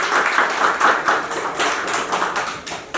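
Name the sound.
audience applause at a ceremony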